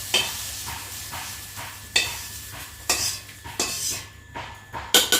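Potatoes frying in a pan, with a soft sizzle beneath sharp, evenly spaced scrapes and clinks of a utensil stirring against the metal, close up.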